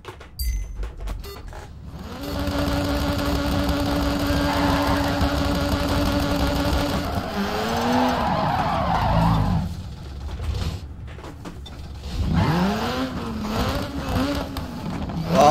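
A rally car engine in the DIRT 3 racing video game at a Summer X-Games event. It drones steadily and loudly, then rises and falls in repeated revving sweeps as the car slides, with no talk.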